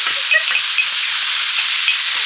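Loud, continuous high-pitched sizzling of potatoes frying on a hot tawa griddle, with a few small pops and scrapes, no talking.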